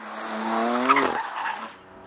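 A BMW M2 Competition sports car with its tail stepping out, giving a loud, close tire squeal that rises and holds for about a second before fading, with no talk.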